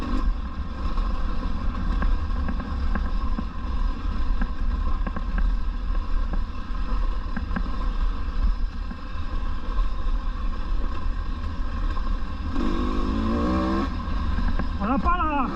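A 2024 KTM 250 EXC dirt bike engine drones steadily while riding, with a constant rough hum, wind rush and a rider speaking over it.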